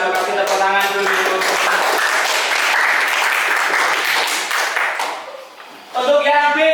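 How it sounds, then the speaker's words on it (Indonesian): A crowd claps and applauds loudly for several seconds at an Indonesian teacher-training session, then fades as a voice starts speaking. "Kasih tepuk tangan dulu."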